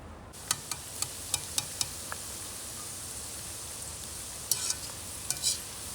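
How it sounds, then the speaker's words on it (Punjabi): Bitter gourd fries in a pan for a bitter gourd and potato dish, a soft steady sizzle with occasional sharp clicks of stirring, quiet and close, with no talking. "ਕਰੇਲੇ ਆਪਾਂ ਇਹਨੂੰ ਚੰਗੀ ਤਰ੍ਹਾਂ ਫਰਾਈ ਕਰ ਲਏ"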